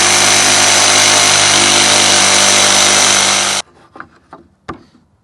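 A jigsaw cutting through a wooden board for a DIY dog house or shed, a loud steady buzzing rasp that stops abruptly, followed by a few light knocks and taps.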